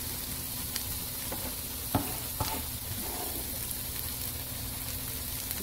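Bell pepper and garlic stir-frying for Chinese-style fried rice, a soft continuous sizzle broken by a few quick utensil scrapes and taps in the pan, close and fairly quiet.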